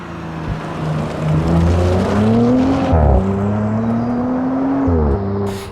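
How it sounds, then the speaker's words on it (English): A 2022 Audi RS4 with Quattro drive pulls hard along twisty countryside roads, its engine note rising through the gears with two brief dips at shifts, loud and close from inside the car. "Getting the Audi RS4 out on the twisty countryside roads was where it really started to shine."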